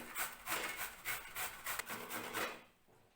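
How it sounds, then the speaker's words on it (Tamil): Peeled bottle gourd rubs against a kitchen grater in quick rhythmic strokes, a close scratchy rasp repeated about a dozen times, then stopping. "இப்போ இந்த சொரக்காவை நம்ம சீவிக்கணும் கிரேட்டர் வச்சு இந்த மாதிரி துருவிக்கணும்"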